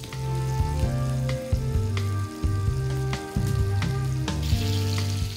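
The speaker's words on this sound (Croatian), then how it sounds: "Malo ćemo to sad promiješati samo da korica se zagrije i pusti ulje." Orange peel in butter and orange juice sizzles steadily in a pan on a cooktop while being stirred, with occasional scrapes and clinks over a constant close frying hiss.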